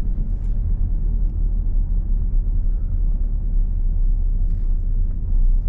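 A car engine hums steadily at close range throughout a driving lesson, a constant low rumble with slight swells in intensity and no speech.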